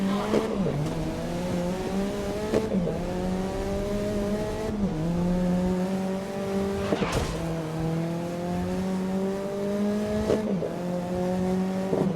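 A racing car engine in the video game GRID (2019) drones and revs repeatedly, pitch dropping at each gear shift, with brief tire squeals, continuous and fairly loud.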